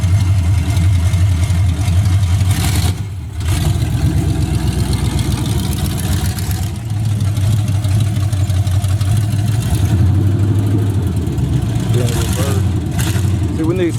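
A Chevy box car engine running as the car moves under its own power, a low rumbling idle that rises and falls in pitch, close by, with someone talking over it.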